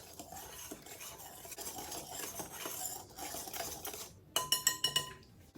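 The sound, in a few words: whisking dry waffle ingredients in a bowl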